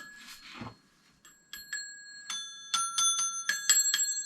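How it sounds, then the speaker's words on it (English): Brass bells from an old telephone ringer being handled and knocked, producing a series of bright metallic rings and clinks that grow more frequent, close and clear. "So these bells,"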